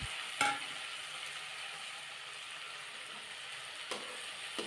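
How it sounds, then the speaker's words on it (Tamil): Tomatoes sauté for a Tamil fish curry (meen kuzhambu) with a soft, steady sizzle in a pan, broken by a couple of brief spoon clinks. Quiet and close, with no talk. "அதை சேர்த்து நல்லா தக்காளியுமே நல்லா வதக்கி விட்டுக்கலாம்"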